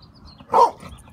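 A single sharp dog bark, close and loud, standing out briefly against a quiet background.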